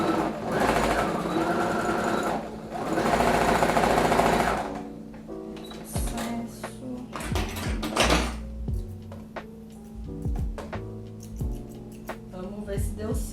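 A domestic sewing machine runs a backstitch close by: two loud sustained bursts of whirring stitching, then slower stop-start stitching with clicks and mechanical knocks, under a faint voice.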